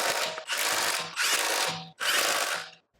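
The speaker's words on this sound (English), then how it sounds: "Tighten them down with the 17mm socket on the impact." Four short, loud bursts from an impact wrench with a 17mm socket as lug nuts are tightened on a 2006 Honda Civic wheel, each burst a buzzing rattle separated by brief pauses.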